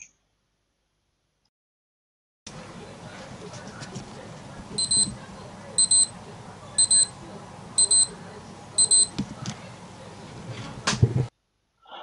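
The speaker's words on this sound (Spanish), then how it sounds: "Y ahora vamos a escuchar cómo suena la alarma" A Casio digital calculator watch alarm beeps in five short bursts of rapid high-pitched chirps, spaced about a second apart, over faint background hiss.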